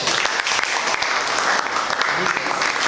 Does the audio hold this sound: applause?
yes